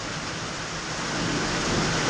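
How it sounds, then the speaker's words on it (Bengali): Steady, dense rain hisses continuously during a thunderstorm with lightning, a broad even wash of noise that grows slightly louder toward the end. "কখন যে বৃষ্টিটা কমবে আর বিদ্যুৎ এত চমকাচ্ছে"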